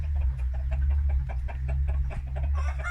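Free-range farm chickens cluck in a busy, overlapping chorus close by, with a low steady hum running underneath throughout.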